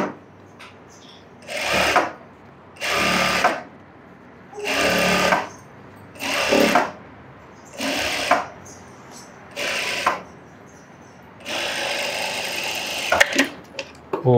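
A sewing machine stitches along a folded fabric edge in six or seven separate loud bursts of a couple of seconds each, with short quiet pauses between them and a longer final run.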